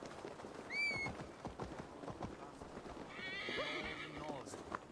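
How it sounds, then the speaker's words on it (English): A horse in the video game Assassin's Creed Valhalla gives a high whinny and later a second neigh, with hooves clopping beneath, set among game ambience and other layered sounds. "Get on the horse."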